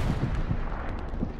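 Artillery shelling in the World War II shooter Hell Let Loose, a rolling series of deep booming impacts at a distance, steady and moderately loud with no voices.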